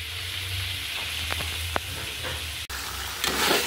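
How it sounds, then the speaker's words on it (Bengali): Chicken sizzles in hot oil in a pan with a steady frying hiss, broken by a few sharp scrapes of stirring and a brief clatter near the end. "আজকে মুরগিটা তো ভেজে রান্না করছি"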